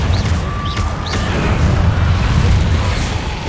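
Explosive Confringo spell blast in the video game Hogwarts Legacy, a loud continuous booming rumble with bursts and crackle, alone with no voices.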